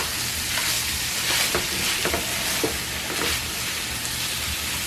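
Ground meat mixed with tomato sauce cooking on low heat in a pan, a dense even sizzle and bubbling that runs steadily throughout, close and fairly loud with no voices.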